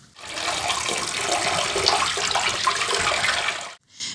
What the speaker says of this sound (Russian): Вода течет из двух труб, но только не в бассейн, а в подвал